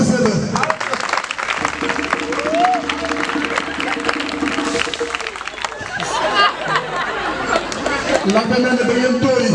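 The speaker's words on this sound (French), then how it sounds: "Applaudissez-le." A church congregation at a youth mass applauds a priest with scattered, moderately loud clapping mixed with crowd chatter and cheering voices throughout.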